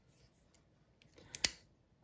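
Small scissors on a Victorinox Pioneer X Swiss Army knife make a few quiet snips and clicks close up, ending in one sharper cut, in a nearly silent room.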